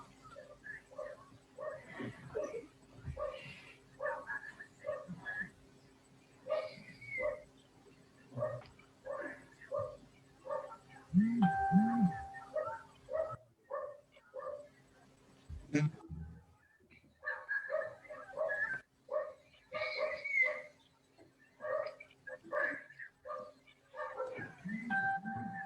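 Dog barking and whimpering indoors, with intermittent yips and a few whines under ongoing conversation, fairly faint and scattered across the span.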